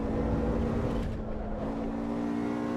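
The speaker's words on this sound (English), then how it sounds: "This BMW is so nice to drive here" A BMW racing car engine in the Assetto Corsa Evo driving game, a steady droning hum that holds an even pitch while driving, with a brief dip in the middle and no talk over it.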